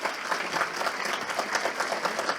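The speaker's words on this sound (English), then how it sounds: "So a warm applause." Audience at an activism event in Scandinavia applauding, a steady wash of clapping that carries on evenly without voices.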